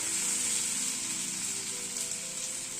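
Egg masala sizzles loudly and steadily in a pan over a high gas flame, with a continuous close frying hiss while it is stirred.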